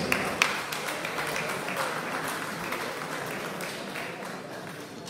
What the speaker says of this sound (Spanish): Vengan los aplausos.